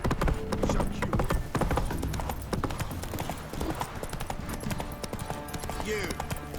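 Roach the horse's hooves clip-clop in The Witcher 3, a brisk, close, steady rhythm running the whole time with game voices talking over it.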